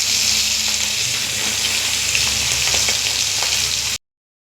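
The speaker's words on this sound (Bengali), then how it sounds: "মাছটা ভেজে তুলে নিয়ে" Tangra fish frying in raw mustard oil in a kadai, seasoned with salt and turmeric: a loud, steady crackling sizzle with small pops, running alone for about four seconds before cutting to silence.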